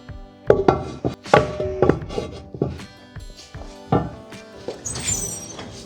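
Sourdough bread dough is scored with a quick cut and then covered with a lid, giving a series of short knocks, scrapes and clacks of a pot and its lid, close up and in uneven rhythm.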